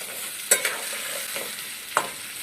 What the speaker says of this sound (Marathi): तर आता खेकडे पण थोडा वेळ मसाल्यामध्ये तळून घ्यायचे आहेत